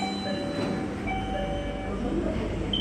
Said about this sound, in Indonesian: nah bunyi belnya mirip MRT ya.